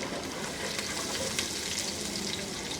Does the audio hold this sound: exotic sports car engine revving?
no